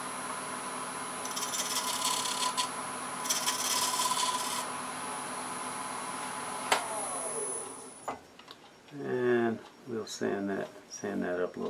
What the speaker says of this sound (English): Sand that up a little bit.